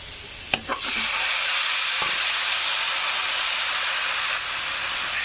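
Mutton hits a hot pan for mutton keema with a couple of clanks. A loud, steady, close sizzle with frying hiss follows and holds to the end.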